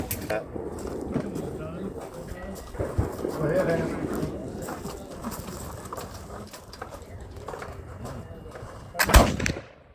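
A black powder muzzleloader rifle fires a single loud, sharp shot near the end at an outdoor NMLRA Buffalo shooting match, following a stretch of people talking at a distance.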